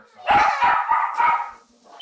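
A dog barking close and loud, four sharp barks in quick succession, then a short quiet tail with a faint sound at the end.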